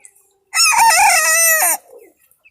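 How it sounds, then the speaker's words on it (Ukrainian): Frizzle bantam Cochin chickens: one loud, close, drawn-out harmonic cry lasting about a second, with a softer trailing call after and quiet otherwise. "Тут трошки моїх кокінхінчиків фрізлі. Ну це карликові кокінхінчики."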